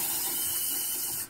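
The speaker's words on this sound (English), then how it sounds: "your water pump is right here" Tap water rushing steadily from a camper van sink faucet, fed by the onboard water pump, a continuous close hiss that cuts off at the end.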